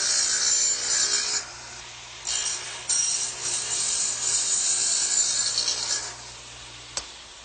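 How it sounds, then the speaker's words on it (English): A dado being cut into wood for a workbench shelf: steady, bright high-pitched power-tool cutting noise with short pauses and restarts, fairly loud and close, with a sharp click near the end. "now let's turn it over and dado out for the shelf"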